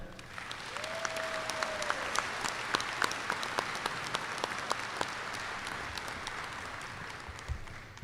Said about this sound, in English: Please join me with applause to thank them for all that they have done